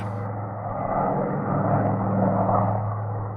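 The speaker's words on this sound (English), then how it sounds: "The 4 engines are turning at full power." A four-engine propeller airplane climbs at full power after takeoff from Chicago, heard as a steady, loud, droning engine roar throughout.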